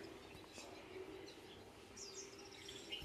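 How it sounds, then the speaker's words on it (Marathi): Small birds chirp and tweet in the morning over a campus lawn, the calls light and scattered against a faint, steady outdoor hush with no one talking. "आजकाल शहरामध्ये अशा पक्ष्यांचा चिवचिवाट ऐकणं फार दुर्मिळ झालं आहे"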